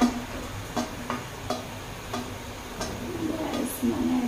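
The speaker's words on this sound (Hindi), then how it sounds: "एक बार अच्छे से मिक्स कर लेते हैं" Paneer capsicum sabji is stirred in a pan over a soft sizzle, with a spoon scraping and tapping the pan in a regular rhythm close by.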